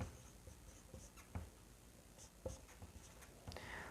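Writing on a board during a lesson: faint scratchy strokes and a few light taps in a quiet room, spread over a few seconds.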